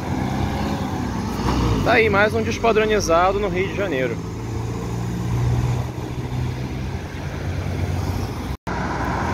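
Neobus Mega Plus city bus on the Três Amigos line, Euro 5 chassis, rumbling past on a Rio de Janeiro street amid steady traffic noise, with someone talking over the engine.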